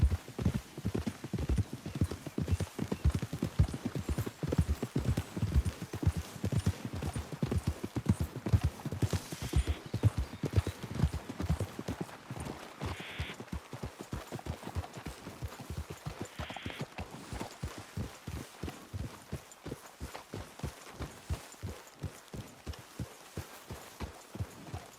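Horses' hooves clip-clop steadily across open ground in Red Dead Redemption 2, a dense quick rhythm of several animals that eases into a slower walking beat, with a brief whinny partway through.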